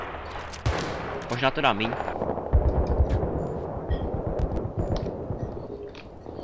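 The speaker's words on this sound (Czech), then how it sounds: "Když střílím z kulometu, tak tě není slyšet." Machine gun fire in Battlefield 3 rattles in rapid, sustained bursts at close range, loud and continuous through most of the stretch, with someone briefly talking over it.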